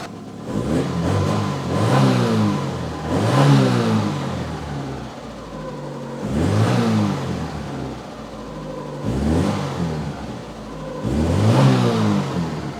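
An Opel Ascona's carbureted engine revs up and settles back repeatedly, about four rising surges with a throaty, breathy intake roar, close and fairly loud.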